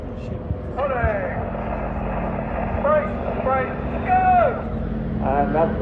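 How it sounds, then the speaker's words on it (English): Air show aircraft with 9-cylinder radial engines of about 450 horsepower drone steadily and loudly throughout. A commentator talks over the roar over a PA, and the engine pitch rises and falls a little. "5 engines, their 9-cylinder radials, packing out about a 450 horsepower,"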